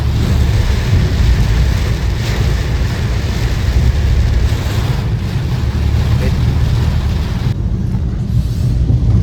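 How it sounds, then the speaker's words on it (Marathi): Very heavy rain pours during a road trip from Mumbai to Chiplun, a dense, loud, continuous roar mixed with vehicle rumble that thins slightly near the end. "खूप जास्त जोरात पाऊस पडतो आहे बघू शकता तुम्ही"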